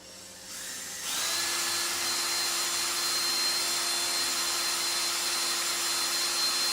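A power drill with a large bit spins up and bores into wood while building a workbench frame, a sudden jump to a loud, steady high whine that holds evenly after a quiet start.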